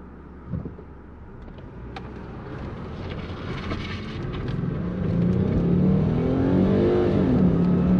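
2021 Dodge Charger Magnum Hellcat wagon, a 1000 hp build, accelerating on a test drive, a rising engine roar that builds and holds loud toward the end, heard from inside the car.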